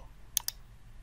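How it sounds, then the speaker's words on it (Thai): A computer mouse is right-clicked, giving two quick, crisp clicks in close succession, close and clear over a faint low hum. "กดเมาส์ขวาที่หน้าจอ แล้วเลือก personal"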